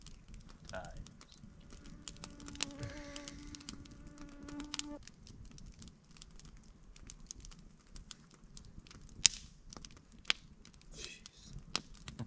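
Insects swarm and buzz past at a Boundary Waters canoe campsite, faint whining flybys drifting in and out over quiet surroundings with scattered clicks and taps, and soft voices in the background.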